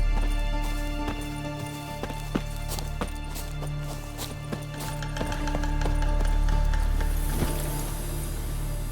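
Hooves of Geralt's horse Roach in The Witcher 3, a steady clip-clop of a walking-to-trotting gait over a constant low ambient hum, with scattered clicks and rattles, moderately loud and close.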